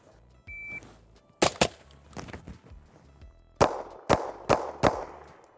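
Sharp, loud gunshots from an AR-15 rifle, a couple of spaced reports, then a rapid string of four pistol shots from a Fusion XP Pro, close and alone with no talk.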